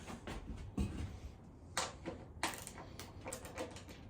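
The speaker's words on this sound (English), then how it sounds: "8 mm socket. to lose the seat bolts." A socket wrench works seat bolts loose on a 2022 Suzuki DR-Z400SM motorcycle, giving a few close, short metallic clicks and ratchet bursts in quiet surroundings.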